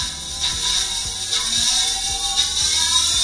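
A 48/60V 1000W 17-inch hub motor on a petrol-to-electric scooter conversion accelerates in second speed, with a close mechanical whir and quick ratcheting clicks as low tones rise.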